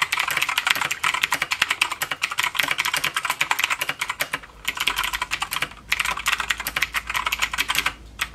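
A mechanical computer keyboard typed on steadily, its keys clicking in quick, close bursts broken by two short pauses, with no talking.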